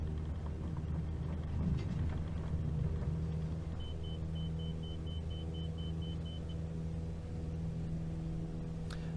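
Aircraft engine during takeoff in Microsoft Flight Simulator, a steady low droning rumble holding at moderate level with a faint tonal whine, no talking.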